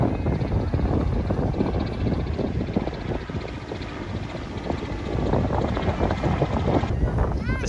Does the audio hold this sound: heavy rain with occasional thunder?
no